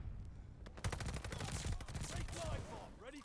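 Rapid automatic gunfire in Call of Duty Vanguard, a quick string of sharp shots fired at a very high rate, loud and close, running for about two seconds before fading into other game sounds, with no speech.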